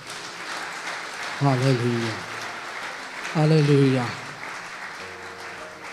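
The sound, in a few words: congregation applauding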